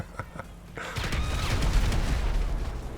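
Fireworks go off in a Grand Theft Auto game: a couple of soft pops, then a dense, continuous crackling barrage of bursts that fills the rest of the moment.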